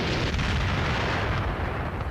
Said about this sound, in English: Die Bomben sausen in dichter Folge zur Erde nieder.